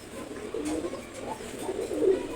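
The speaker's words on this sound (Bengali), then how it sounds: "এগুলো রেসার কবুতর দেখেন" Racing pigeons in cages coo softly in low, rolling murmurs that repeat several times, faint and close with no talking.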